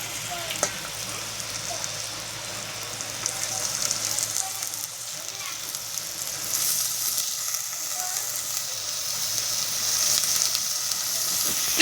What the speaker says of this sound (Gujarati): હવે આપણે નાખી દઈશું ઉગેલા મગ.